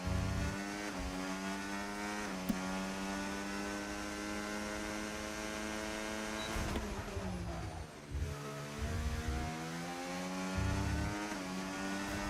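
F1 car engine in the F1 25 video game, driven through a chicane on the Canada circuit: a steady, loud high-revving engine tone with gear shifts and brief dips as the car brakes and accelerates, heard alone.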